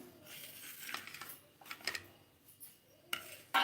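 Salt, gram flour and spices are stirred together in a metal bowl for a fish fry, giving light scraping and clinking strokes at an uneven pace, close and fairly quiet with no talking.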